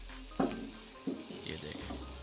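Saag chicken simmers and sizzles in a pan with a steady close frying hiss, broken by a couple of sharp stirring clanks of a utensil against the pan.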